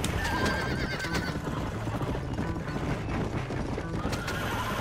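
A starving horse whinnies in the video game Red Dead Redemption amid a dense, constant clatter of hooves and mechanical noise, loud and close throughout, with a short neigh near the start.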